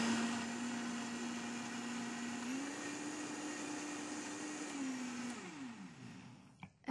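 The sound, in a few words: blender blending salad dressing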